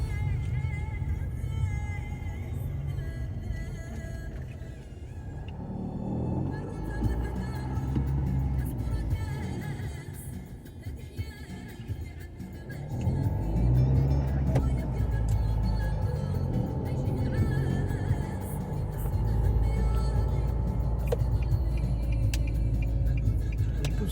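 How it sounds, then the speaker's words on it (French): Evening rush-hour traffic on a town road in the Vendée capital: a continuous low rumble of cars driving past, close and steady. Engine noise swells louder in the second half as passing vehicles build up. "Donc il y a pas mal de voitures sur la route."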